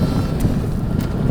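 Strong wind buffets the microphone on a lake aboard a boat, a steady low roar filling the whole stretch, loud and close, with no one talking.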